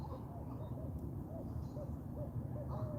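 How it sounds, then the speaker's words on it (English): Big owl hooting from up in a tree, soft repeated low hoots at a steady pace over outdoor background noise, faint and somewhat distant. "It's a big old owl up in a tree up there"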